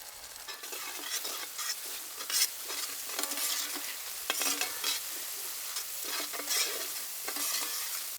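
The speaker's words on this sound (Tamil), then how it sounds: "மசாலா நல்லா வதங்கிருச்சுங்க" Masala with garam masala, soy sauce, red chilli sauce and green chilli sauce being stirred and sautéed in a pan for roti noodles, a steady close sizzle with repeated scraping stirs, no talking.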